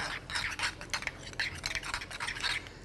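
Minced garlic, rosemary and olive oil stirred together with a utensil in a bowl, giving a steady run of soft, wet scraping and stirring strokes, close and alone, with no talk.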